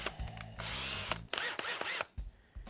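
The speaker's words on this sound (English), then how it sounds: "put it in your drill, and drill out all 6 punched marks on your tunnel" A power drill with a 17/64 bit bores out holes in a metal tunnel during a Double D rack install, motor whirring in bursts with grinding bites into the metal, starting and stopping several times, fairly quiet.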